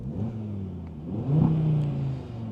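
A 2025 Audi RS3 engine revs up sharply to its rev limiter and holds there briefly before dropping back, loud and close with a rising whine.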